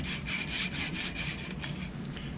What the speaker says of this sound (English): I'll take that sandpaper and just do this on one side